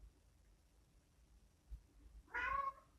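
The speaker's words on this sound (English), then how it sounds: "My cat did something." A pet cat gives a single loud, close meow near the end, after a quiet stretch with a few faint soft bumps.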